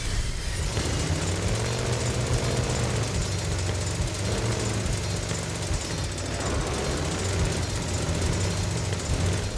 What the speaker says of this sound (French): Je sens que la moto là commence à fatiguer.